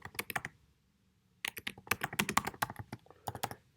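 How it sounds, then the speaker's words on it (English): Fast clattering keystrokes on a computer keyboard come in two quick bursts separated by a short pause, close and fairly quiet, with no voice. "And as I type,"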